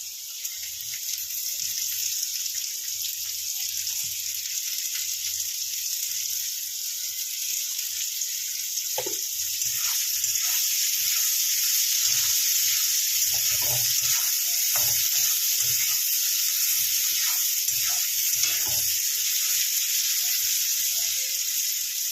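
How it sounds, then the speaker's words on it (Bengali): Chopped onion frying with half-fried potatoes in a pan for a quick leftover-rice dish: a continuous sizzle with intermittent scraping and stirring knocks, no speech. "এবার আমি পেঁয়াজ কুচিটা দেবো।"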